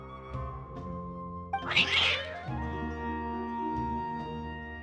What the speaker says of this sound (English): Some cats.